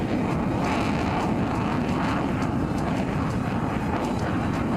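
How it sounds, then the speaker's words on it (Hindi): Sukhoi 30, MiG and Jaguar fighter jets roar continuously over a highway emergency landing strip, a loud, dense, rumbling wash of engine noise held steady for several seconds. "जब एक साथ गरजेंगे सुखोई 30, मिग और जगुआर लड़ाकू विमान"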